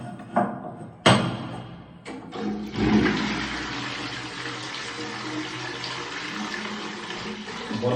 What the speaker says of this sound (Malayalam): നമുക്കൊന്ന് ഫ്ലഷ് ചെയ്ത് നോക്കാം.